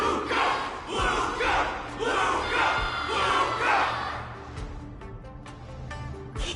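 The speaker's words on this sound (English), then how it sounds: "Everyone's cheering for you" A game crowd in Honkai: Star Rail cheers and shouts in loud swelling waves for several seconds, then thins out to scattered fainter calls near the end.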